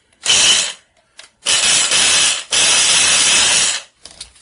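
A cheap Toastmaster countertop blender from Dollar General running in three short bursts of loud motor whir, close and alone, with quiet gaps between pulses.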